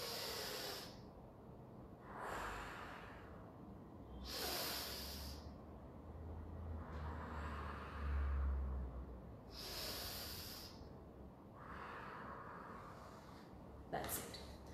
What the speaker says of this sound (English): So in apical breathing, you have to just keep your fingers above the clavicle region like this.